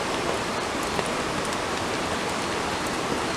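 Torrential rain pours down on a campsite, a dense, even hiss of drops drumming on surfaces throughout, with no voices.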